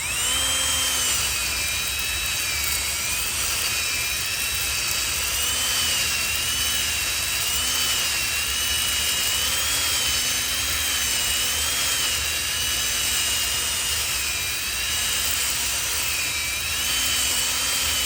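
A drill-driven cylinder hone spins inside the cylinder of a 1983 Honda XR200R engine, giving a steady high whine with a wavering pitch and a continuous grinding scrape that runs uninterrupted throughout.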